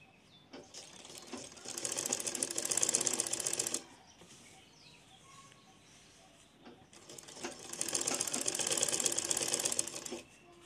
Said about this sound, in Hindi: कपड़े को सरकाते जाना है और सिलते जाना है।